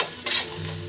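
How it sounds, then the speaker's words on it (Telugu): Okra frying in oil in a pan makes a close, constant sizzle, with one brief louder scrape or stir partway through and no talking. "బెండకాయ ఫ్రై"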